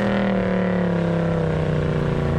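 A Mercedes-Benz C63 AMG estate's 6.2-litre V8 hums loud and steady with a deep rumble and rich harmonics, holding a smooth, even tone with no talking.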